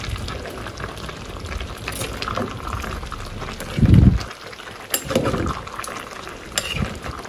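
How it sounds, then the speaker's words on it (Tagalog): Food sizzles and fries in a pot while being stirred, with steady crackling, a few scraping clunks of the utensil against the pot and soft splashes, all close up with no talking. "At ayan po, ating haluin na po."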